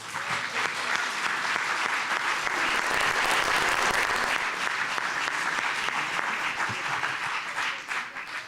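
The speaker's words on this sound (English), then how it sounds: "Let's give the ensemble of storytellers a round of applause again" Audience applause for an ensemble of storytellers after a stage performance, a dense, steady wash of many hands clapping that holds at full strength throughout and eases slightly at the end.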